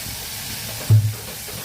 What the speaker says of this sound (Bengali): তেল ছেড়ে দিয়েছে, দিয়ে দিলাম একটু গরম জল